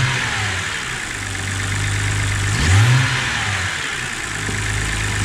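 A BMW E90 with an N52B30 straight-six, suffering crankcase ventilation trouble, idles steadily up close and then blips its revs once with a rising whine near the middle before settling back to idle.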